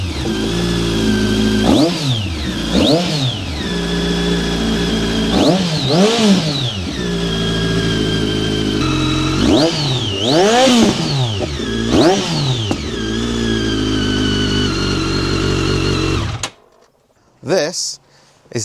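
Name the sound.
KTM 1290 Adventure motorcycle engine revving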